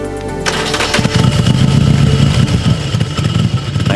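An ARCH KR GT1 motorcycle engine cranks and fires at a Bosch proving ground in Flat Rock, Michigan, then settles into a loud, steady, rumbling idle with small rhythmic fluctuations, heard close up with no talk over it.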